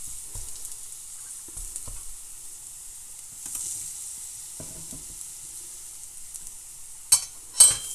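Salmon cooks in a pan over moderate heat, giving a steady close sizzle with soft utensil knocks and a couple of louder scrapes near the end.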